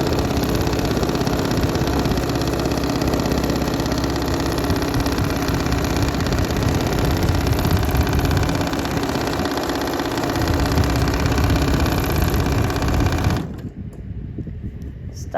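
A sewing machine free-motion quilting through a thick T-shirt memory quilt runs in a loud, steady continuous motor whir close by, then cuts off abruptly near the end, leaving faint background noise.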